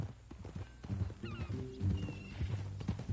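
Horse hooves clip-clop in Red Dead Redemption, a soft, uneven run of hoof knocks on ground at low level, with faint ambient sounds around them.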